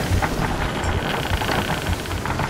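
Stormy weather in a sea-battle video game, a dense roaring wash of rain and wind with low rumbling like distant thunder, loud and unbroken throughout.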